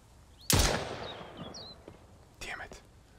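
Gunfire in the survival video game Mist Survival: a loud, close shot with a long ringing decay, then a second, softer burst of reports a couple of seconds later, over a low background hiss.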